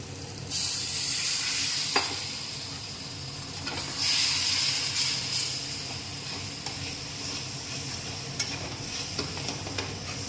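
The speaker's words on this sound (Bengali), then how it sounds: "এটা একটু ভাজা হবে। মশলাটা আমার ভাজা হয়ে গেছে।" Spices fry in oil in a pan for Bengali aar fish curry, giving a steady soft sizzle with occasional stirring scrapes and clicks, close and fairly quiet.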